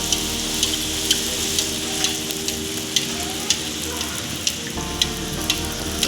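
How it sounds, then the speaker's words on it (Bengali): Rolled luchi flatbreads deep-fry in hot oil, a continuous bubbling sizzle with regular light crackles and taps as each one is turned. "এরপর বেলে রাখা লুচি ভেজে নিচ্ছি।"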